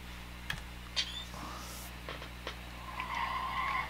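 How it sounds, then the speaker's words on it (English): A car in the H1Z1 battle-royale video game passes by at a distance, faint engine and tire skids with short clicks of keys or mouse, fairly quiet overall. "I hear a car."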